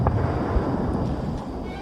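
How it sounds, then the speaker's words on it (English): An explosion effect from an audio drama: a dense, loud, continuous roar and rumble with crackling debris filling the whole stretch without a break. "That's an explosion!"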